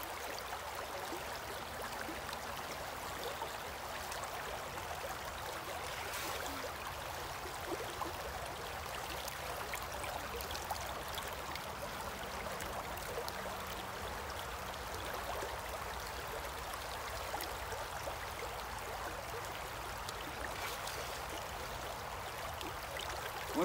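Bear Creek water flows in a steady, broadband rush, a continuous nearby stream trickling and splashing without pause or change throughout.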